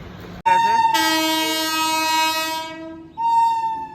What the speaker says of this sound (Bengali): চলো দেখি ট্রেন এসে দাঁড়িয়ে আছে